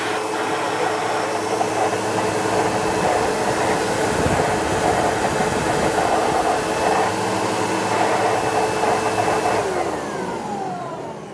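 An Everclean vacuum cleaner runs at a high setting, a loud, steady whine and rush that holds for several seconds before winding down at the end.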